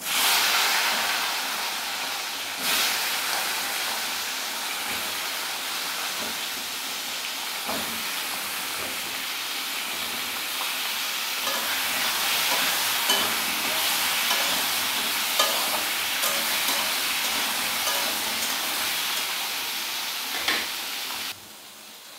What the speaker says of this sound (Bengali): প্রথমে আমি পটলটাকে ভেজে নেব।